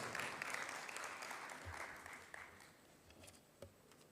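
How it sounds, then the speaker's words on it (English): Members at a joint parliamentary group meeting at KICC in Nairobi applauding a speaker, a quiet, fairly distant patter of clapping that thins out toward the end with a few isolated claps. "A round of applause."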